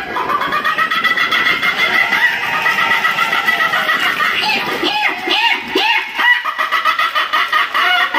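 Hen loudly clucking and squawking after laying an egg, a continuous run of agitated, rising cackles close by, with faint talk in the background.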